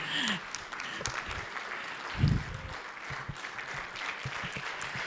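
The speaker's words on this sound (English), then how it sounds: "I think she deserves a round of applause, a bigger one." Audience at an elders' meeting clapping steadily in a room, a sustained patter of many hands at moderate distance with a brief louder swell partway through and faint voices beneath.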